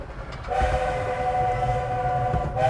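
A Romney, Hythe and Dymchurch Railway train runs along the tracks near Dymchurch, with a sustained multi-tone horn sounding over a close, rumbling roll of wheels.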